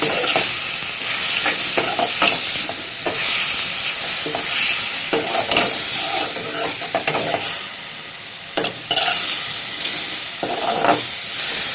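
Mushrooms fry loudly in a pan while being stirred, a continuous sizzle broken by repeated scraping and clattering strokes of a utensil.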